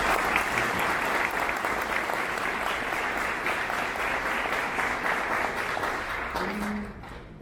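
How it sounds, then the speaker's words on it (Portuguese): A conference crowd at Latinoware 2022 applauds as a speaker is welcomed to the stage. The thick, sustained clapping fills most of the stretch, then thins out, and a voice briefly comes in at the end. "peço uma salva de palmas ao John Maddog Hall"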